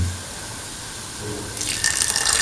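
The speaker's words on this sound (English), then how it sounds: "Pour in" Water is poured into a cooking pan while making a potato chickpea coconut milk rice dish; a quiet pause gives way to a bright splashing gush in the final second.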